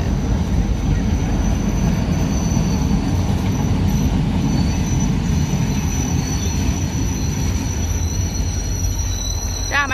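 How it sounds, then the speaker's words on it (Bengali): Train passing on the railway line beside Bentota beach in Sri Lanka, a loud continuous rumble with squealing wheels and rattling carriages lasting throughout, light rain in the scene. "এখানে একটা ট্রেন লাইনও আছে।"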